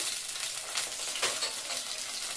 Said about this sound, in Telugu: ఆవాలు వేగుతున్నాయి ఆలుగడ్డ ముక్కలు పచ్చిమిర్చి ముక్కలు